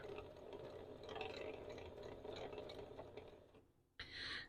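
Domestic sewing machine stitching straight across fabric binding for a quilt, a steady mechanical whir and rattle running continuously, briefly cutting out near the end before starting up again.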